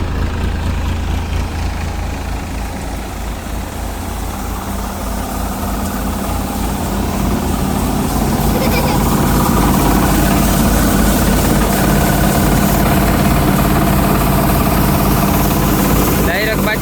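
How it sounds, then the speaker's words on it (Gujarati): A tractor engine held at 1100 rpm drives a Shaktiman thresher (2025 model) threshing pearl millet, a loud steady low rumble with machinery whir that grows slightly heavier midway, running continuously up close. "ટ્રેક્ટરના આરપીએમ જો વાત કરીએ તો 1100 ઉપર રાખેલા છે."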